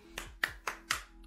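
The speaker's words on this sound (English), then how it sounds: "round of applause to her" Four sharp hand claps in an even rhythm, close and fairly quiet, in a small room with no talking.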